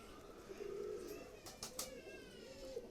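Pakistani high flyer pigeons give a faint, low coo near the start, followed by light scuffling and brief fluttering sounds at low volume.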